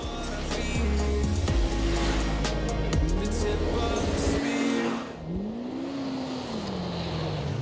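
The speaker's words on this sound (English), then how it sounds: "From the first time I hit the throttle, I could not believe the acceleration." A 225 hp naturally aspirated Polaris RZR Pro R engine accelerates hard, its loud rising roar climbing through the revs, dipping briefly around a shift before winding up again in a second sweeping climb.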